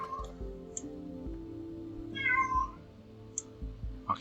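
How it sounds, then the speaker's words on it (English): A female cat in heat lets out a drawn-out, wavering yowl in the middle, with shorter meows before and after, over a low hum of game music and background sound. "My cat's in heat, so she's yowling her head off."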